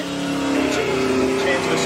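Methanol-injected engine with alloy heads, built by Hume Performance, revving steadily in a black car at Summernats, loud and sustained, with an announcer talking over it.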